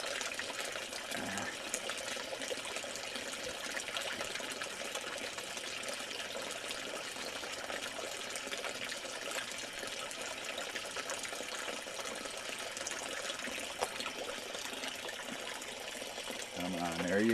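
Continuous splashing flow of a garden waterfall pouring into a pond, steady and broadband for the whole stretch, close and moderately loud, with brief faint voices near the end.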